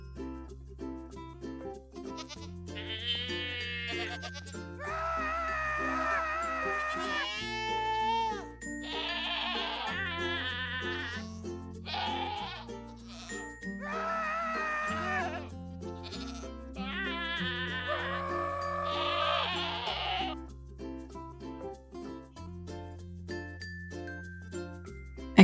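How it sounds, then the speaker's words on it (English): Repeated bleating cries of a Minecraft goat in the video game, loud and clear, sounding again and again over a steady droning musical background with no talking. "Here the goat yells if his score matches 10."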